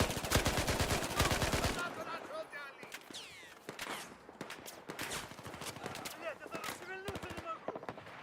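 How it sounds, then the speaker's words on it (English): Rapid bursts of sniper and automatic gunfire in an online shooter game, loud sharp cracks in a dense volley at first, then scattered shots and impacts continuing under game noise. "Someone's shooting at me with a sniper."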